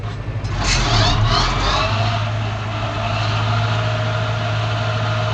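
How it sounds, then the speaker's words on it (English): A tractor engine revving hard and rumbling loud and close, with a throaty roar that stays steady and dominant throughout. "So this tractor, you gotta rev it up some before you kick it on."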